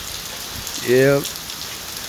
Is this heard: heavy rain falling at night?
yes